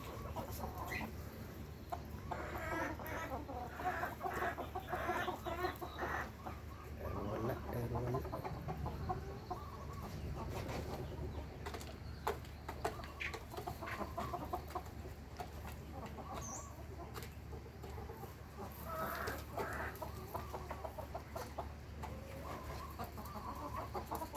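A flock of farm chickens clucks and squawks around a coop, a busy, irregular chorus of close and farther calls that carries on throughout.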